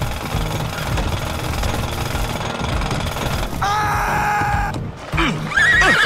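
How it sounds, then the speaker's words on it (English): Horse neighing and hooves clip-clopping in GTA 5: a loud, steady rhythmic clatter of hooves continues throughout, then a bright whinny rises near the end, close and loud. "Keep walking my horse."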